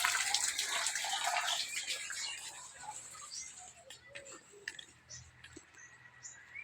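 Water pours steadily from a natural stone spout, making a continuous close splashing rush that is strongest at the start and then eases into softer trickling with a few light drips.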